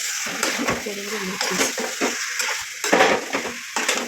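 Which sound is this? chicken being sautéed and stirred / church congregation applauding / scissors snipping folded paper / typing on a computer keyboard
chicken being sautéed and stirred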